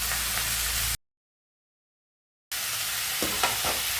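Brinjal and onion sautéing in oil with turmeric, a steady close sizzle with a few stirring scrapes, broken by a sudden stretch of total silence in the middle before the frying resumes.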